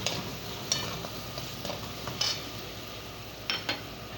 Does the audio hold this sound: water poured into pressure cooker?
no